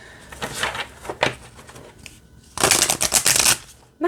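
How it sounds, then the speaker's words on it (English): Oracle cards being shuffled in several quick riffling bursts, the last one longest and loudest, separated by brief quieter pauses. "Let's see how it shuffles."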